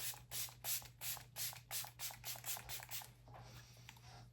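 About a dozen quick, airy spritzes of a priming and refreshing face mist spray with ceramides in a steady rhythm, close and soft, followed by a faint hiss.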